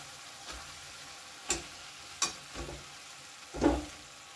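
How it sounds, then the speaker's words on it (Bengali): Fried pointed gourds go into sizzling spice paste in a pan, a low frying hiss broken by several distinct stirring scrapes and knocks spaced about a second apart, the last one loudest. "এমন অবস্থায় আমি ভেজে রাখা পটলগুলো দিয়ে দিচ্ছি।"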